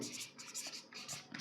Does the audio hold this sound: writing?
yes